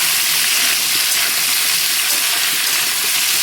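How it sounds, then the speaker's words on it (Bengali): Malabar spinach sizzling in a hot pan, a loud, steady frying hiss that runs unbroken throughout with no talking. "এবার পুঁই শাকটা দিয়ে দিয়েছি। এই পাশে রান্না করছি, তাই আওয়াজ হচ্ছে।"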